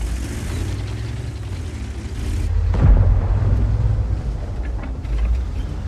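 Tank gun firing a premium shell from an FV1066 Senlac in a video game: a single low, booming shot near the middle, rising over a steady engine rumble and fading into a dull rolling tail.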